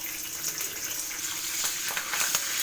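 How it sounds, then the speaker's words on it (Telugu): Green chillies, cashews and curry leaves fry in hot oil for rice pongal, giving a steady close sizzle with a few soft stirring scrapes and no voices. "కొంచెం కలర్ వచ్చేంత వరకు వేయించుకోవాలి. అలాగే కరివేపాకు వేసుకోవాలండి."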